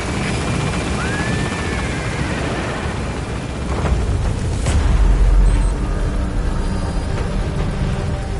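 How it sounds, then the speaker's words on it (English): Helicopter rotor chop in Metal Gear Solid V, loud and continuous throughout, with a deep rumble swelling in the middle as the chopper departs. "Get on the chopper."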